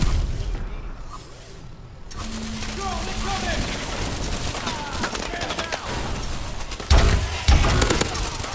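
Layered gunfire from Call of Duty Advanced Warfare as a squad shoots together, with a dense, sustained stream of rapid shots, a couple of louder bursts near the end, and voices talking through it.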